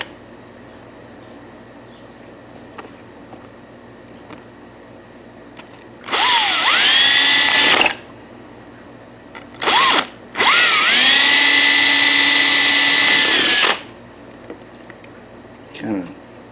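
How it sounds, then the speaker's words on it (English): Power drill boring holes into a part for a 3D printer-to-engraver conversion, in two loud bursts of about two and six seconds with a short blip between, set against a quiet room. "I'm going to try to drill holes in it"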